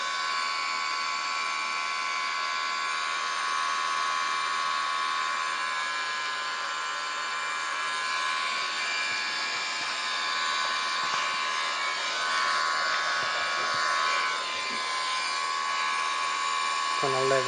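Airbus A330 engine drone in Microsoft Flight Simulator, a steady high whining roar held evenly throughout, with someone talking over it.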